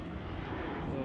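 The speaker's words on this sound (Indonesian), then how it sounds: "Pesawat Lion." Lion Air airliner passing overhead near fishing waters, a steady broadband engine roar lasting the whole moment, with voices talking underneath.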